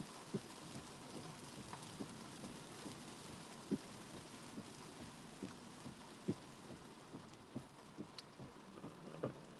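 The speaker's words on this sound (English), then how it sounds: "it's raining hard." Heavy rain falling hard, a steady broadband hiss with scattered sharp drop taps throughout, moderately quiet and without speech.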